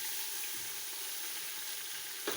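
Tomatoes and green chillies sizzling in a hot pan, a faint, steady hiss that stays even throughout, with a small clatter near the end.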